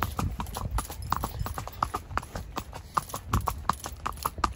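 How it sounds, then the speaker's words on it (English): Horse hooves clip-clop in a quick, uneven rhythm on a hard surface, close by, with faint rustling and occasional bumps of movement, as the horse is ridden. "This is so hard riding a horse one-handed"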